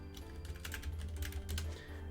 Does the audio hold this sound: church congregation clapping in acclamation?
no